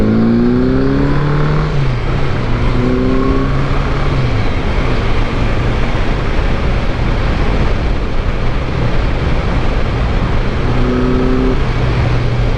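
A 1981 Honda GL1100 motorcycle engine pulls hard under acceleration while riding, a loud, continuous drone rising in pitch with audible gear shifts and heavy wind rush throughout.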